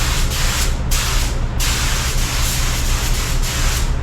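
A spray gun sprays base coat paint over sanded spots on black automotive paintwork, giving a loud, close, continuous hiss broken by short pauses as the trigger is released and pulled again.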